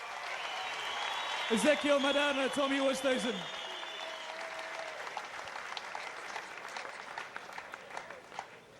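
Big round of applause from a boxing crowd after a 12-round IBO super middleweight title fight between Thomas Oosthuizen and Ezequiel Maderna, steady clapping throughout with an announcer's amplified voice talking over the start.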